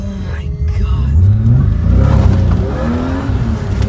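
BMW M3 engine revving and accelerating hard while the car is countersteered, a loud continuous rumble close by with rising and falling pitch, mixed with excited voices in the car.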